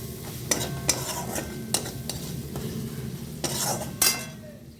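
A pan of chopped tomatoes with mustard and chili paste is stirred and fried, giving a steady low sizzle broken by several sharp clinks of a spatula or spoon against the metal pan.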